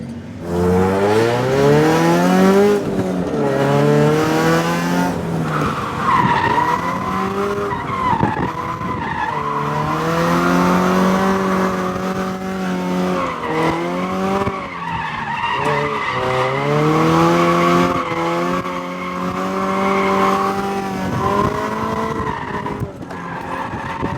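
Drift car on worn-out iMove Gen 2 tires, loud continuous tire squeal with engine revving up and down through repeated slides, close and sustained for the whole lap section.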